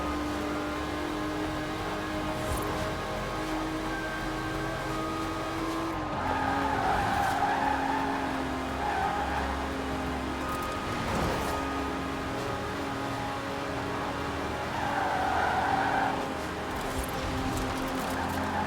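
Aston Martin DB5 Vantage inline-six engine with side-draft carburetors in Forza Horizon 4, a steady moderate drone with tyre squeal surging twice, heard alone without talk.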